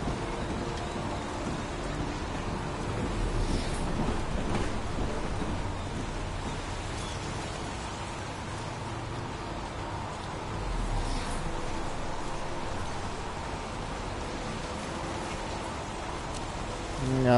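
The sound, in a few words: rain and thunder in the video game Heavy Rain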